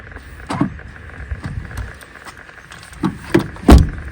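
A Rover 25 1.1L gives a series of short mechanical clicks and clunks from its locks and door mechanism, spaced irregularly, with a sharper, louder thunk near the end, close and fairly quiet.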